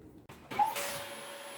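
A vacuum cleaner switches on with a click and a rising whir, then runs steadily while sucking steel-wool dust off the frets of a Cort Earth70 acoustic guitar.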